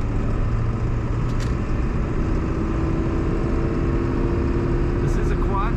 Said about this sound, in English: As you can probably hear, this is a diesel.